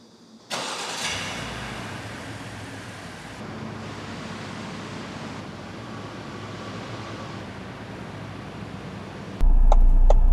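A Lincoln Nautilus engine cranks and catches, then settles into a steady, smooth idle heard up close, with an abrupt louder, lower rumble near the end.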